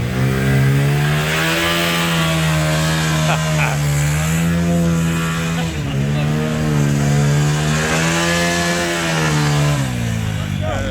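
A 1992 Honda CR500R two-stroke dirt bike, a Team Splitfire Pro Circuit Peak racing edition, runs loud and close on sand, holding a steady buzzing engine note with slight rises in pitch and no break for about eleven seconds.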